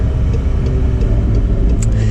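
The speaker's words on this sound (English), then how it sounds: "you certainly get the kind of like Formula One kind of sound here" Deep, rumbling engine note from a McLaren 720S Performance Spider heard from inside the car, a loud steady drone with strong low-end throb throughout.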